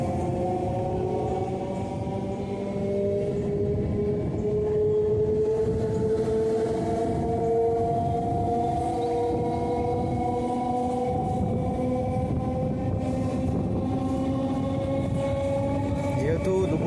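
A local train runs from Fuleswar to Maurigram, a steady loud rumble and rail roar with sustained tonal whining from the moving carriages, continuous throughout.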